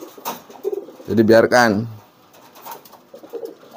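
Two pigeons coo with deep, throaty rolling calls while drinking, with a prominent cooing phrase midway through and quieter coos on either side, under a voice speaking briefly.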